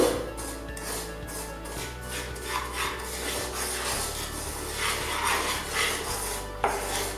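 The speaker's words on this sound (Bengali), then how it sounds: "আমি সুজিটা দিয়ে দিচ্ছি সুজিটা হালকা জালে একটু ভেজে নেব" Semolina frying on low heat in a pan for halwa, stirred with a steady scraping and rasping rhythm, close and continuous, with a light knock near the end.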